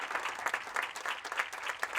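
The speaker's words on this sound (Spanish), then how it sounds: "Así es que dale palmas al Rey" A church congregation at an outdoor service claps together in a fast, steady rhythm, heard from a moderate distance as a continuous patter of many hands.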